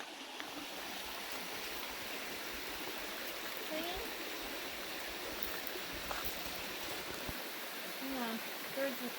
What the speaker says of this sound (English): And you can walk down to the stream.